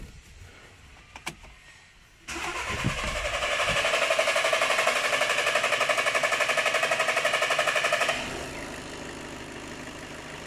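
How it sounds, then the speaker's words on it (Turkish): An Audi Volkswagen 1.6 TDI diesel engine with a late-starting fault cranks in a long, rapid, rhythmic starter whir after a few clicks, then settles into a softer running hum. "Şimdi araca marş yapıyorum."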